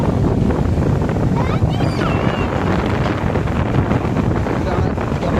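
Water rushes through the Thottapally spillway in flood, a loud, constant roaring wash mixed with heavy wind buffeting nearby, with voices partly audible beneath it.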